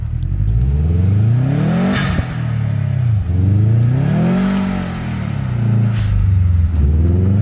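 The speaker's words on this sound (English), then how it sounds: "Best sounding turbo ever" A Subaru Forester turbo engine revs hard in snow, its pitch rising and falling in several sweeping surges with a whistling turbo whine, loud and close.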